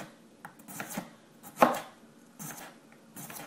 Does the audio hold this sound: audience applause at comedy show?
no